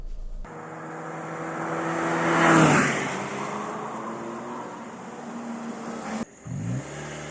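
Volkswagen Polo 1.6 MSI engine and road noise while driving, building steadily as the car accelerates, peaking briefly, then settling into a steady cruising hum with a short dip near the end.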